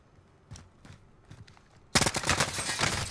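Video game gunfire bursts in suddenly as a loud, rapid automatic volley after a few quiet footstep-like thuds, then sustains as dense close shooting.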